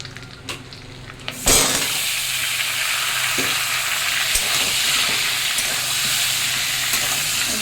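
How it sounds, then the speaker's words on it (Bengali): Potato pieces drop into hot oil in a pan with a sudden burst of loud, steady sizzling that carries on without a break after a quieter start, as part of an egg curry preparation. "এবার আলুগুলো দেবো ভেজে নেবো একটু"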